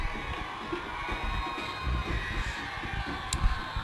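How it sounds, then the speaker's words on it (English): A crowd at a high school football game cheers and shouts steadily at moderate distance, a continuous roar of voices with scattered whoops. "Their crowd's all fired up"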